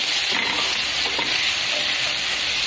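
Fish frying with cumin seeds in a pan gives a steady, close, dense sizzle throughout, with faint stirring scrapes mixed in and no talking.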